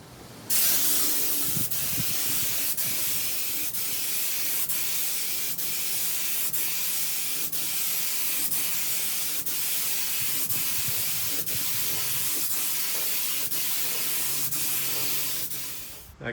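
A steady, close aerosol hiss of spray paint lays undercoat over rusty metal. It starts abruptly and holds at an even level for about fifteen seconds before cutting off.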